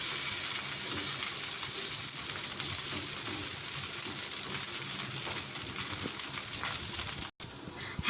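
Hatrick dosa batter sizzles on a hot pan over high flame: a loud, continuous crackling hiss that holds steady throughout, with one brief dropout near the end and no voices.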